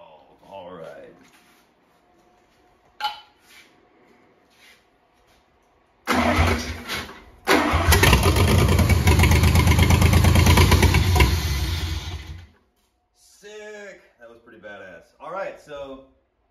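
An outboard-style motor with a field-repaired ignition sputters once, then catches and roars into a steady, loud run for several seconds before cutting off, with people talking briefly before and after.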